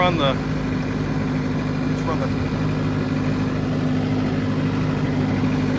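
A TYM 5835R tractor's engine runs steadily, a constant low rumbling drone heard close up, with a brief voice near the start.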